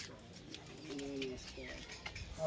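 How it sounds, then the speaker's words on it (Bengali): Pigeons at a Bengali pigeon market or breeder's coop cooing softly in low, repeated murmurs, with voices and general crowd noise mixed around them. "না না পায়রা শুধু ভালো বাচ্চা পায়রা।"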